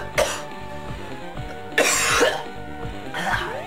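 Dry coughing from a game character in the Ultimate Flash Sonic web game, a few harsh bursts spaced over several seconds against steady game music.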